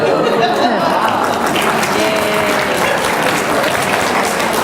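A conference audience claps loudly and steadily throughout, a dense sustained applause from a full room with a few chuckles mixed in.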